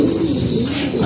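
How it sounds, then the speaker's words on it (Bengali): Pigeons coo in a loft, including a pair of red-geared birds, with soft low throaty calls running continuously through the whole second, close and steady with no talk. "আর এ পাশে এক জোড়া লাল গিয়ারের কবুতর আছে"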